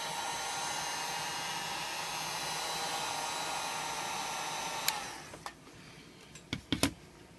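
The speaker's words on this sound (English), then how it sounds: "I am going to get the heat gun. So let's warm this up at the top." Heat gun warming the top of a Nokia Lumia 1020 phone screen: a steady, loud blowing whoosh for about five seconds, then it cuts off, leaving faint handling clicks and taps.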